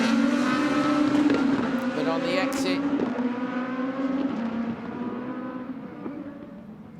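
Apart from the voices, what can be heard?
Super1600 rallycross race cars at Barcelona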